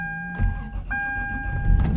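A car engine cranks and starts on a cold morning at about 12 degrees, with a brief hesitation, a steady high whine or chime running over the low rumble for about two seconds.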